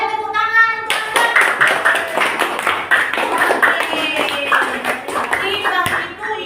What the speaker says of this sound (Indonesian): Boleh tepuk tangan untuk Anda.